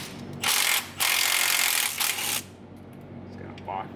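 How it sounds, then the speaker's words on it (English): A ratchet working on a nut while the alternator comes off a truck engine in a shop, several bursts of rapid clicking close by, then quieter clinks and brief talk. "I'm gonna go ahead and pull the alternator off."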